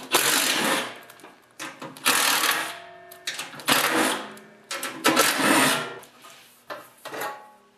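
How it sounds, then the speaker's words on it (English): A cordless impact wrench with a 3/8 socket backs bolts out of the transmission cover on an MTD snowblower. About six short, loud bursts of rattling, hammering whir come up close, separated by brief pauses, and nobody speaks. "First, you'll need to remove the cover. Today I'm using my impact with a 3/8 socket."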